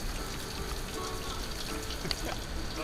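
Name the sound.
shower running water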